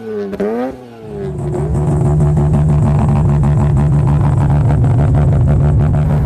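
A Mazda RX-8 with a 250-horsepower two-rotor rotary engine revs hard and loud toward 11,000 RPM, rising quickly to a high, buzzing, sustained roar that holds steady, close and intense.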